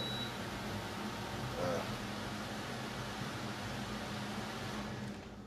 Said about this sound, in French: je vais éteindre le climatiseur